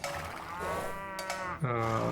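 Cattle moo in a medieval Bohemian campaign strategy game, a few drawn-out lowing calls in quick succession at moderate level with no talk over them.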